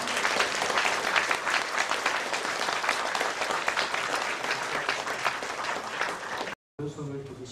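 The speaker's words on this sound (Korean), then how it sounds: "우리 큰 박수로 축하하고 축복해 주시기 바랍니다" A church congregation at a thanksgiving and ordination service breaks into loud, sustained applause that fills the room, then cuts off abruptly before a voice begins speaking.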